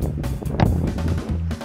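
Wind gusting across an outdoor football pitch during a crossbar-shooting challenge, a steady low rumble of buffeting on the microphone with a brief sharper thump partway through.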